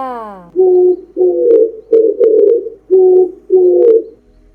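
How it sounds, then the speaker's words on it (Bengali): A pigeon coos up close in five or six rounded, throaty phrases with short pauses between, after a brief sliding tone at the start. "পিজিয়ান মানে পায়রা"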